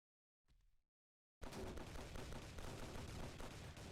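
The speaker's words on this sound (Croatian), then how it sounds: "Vidi ovoga što puškara sve." Gunfire in the online shooter game Rebel Force: a faint short noise, a pause, then a loud, dense, continuous barrage of shots that runs to the end.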